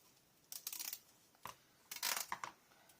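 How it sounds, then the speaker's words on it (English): Scissors cut through gold decorative material in several quick bursts of crisp snipping and rustling, close and quiet with pauses between. "This stuff needs scissors."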